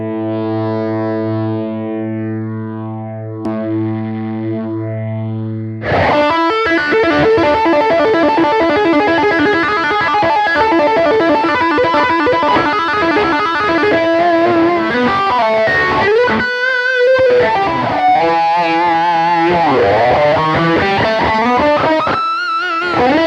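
A sustained, swept tone gives way to a loud, high-gain metal electric guitar played through a clone phaser pedal, with thick distorted chords and a swirling, sweeping phase effect running continuously.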